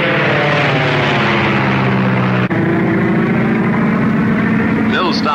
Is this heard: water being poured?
no